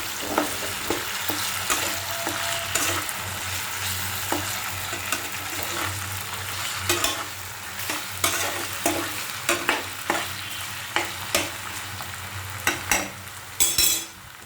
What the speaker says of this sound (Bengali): এখন একটু ভালোভাবে নাড়াচাড়া করে মশলাগুলোকে ভালোভাবে মিশিয়ে নিতে হবে।